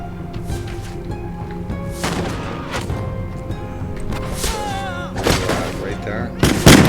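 Gunfire in a samurai action video game, sharp shots cracking at irregular intervals over game music and a talking voice, with a louder blast near the end.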